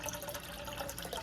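Water runs into a cooking pot as two cups are added for boiling rice, a short splashy pour heard up close.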